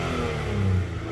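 A car engine revs briefly and rises in pitch, then settles, one short loud surge heard close with no talk.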